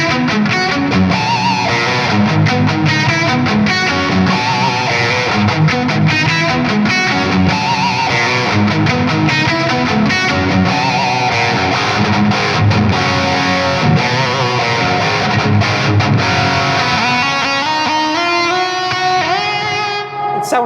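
Electric guitar played through an EVH 5150III 6L6 amplifier with reverb, a loud, continuous distorted run of riffs and chords with a tail of pitch-sliding notes at the end, no voices.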